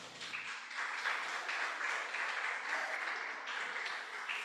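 Church congregation applauding steadily, a dense continuous wash of many hands clapping at moderate distance, sustained without pause for the whole stretch with no talking over it.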